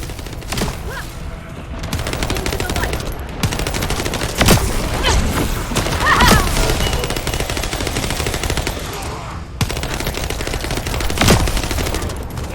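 Sustained automatic gunfire from The First Descendant video game as players shoot down a Vulgus aircraft, loud and continuous with rapid bursts, occasional heavier impacts and explosions punctuating the barrage.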